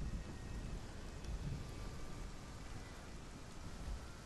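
Rain and thunder in the video game Hellblade: Senua's Sacrifice, a soft steady hiss of rainfall with low rolling rumble underneath, fairly faint and continuous with no voices.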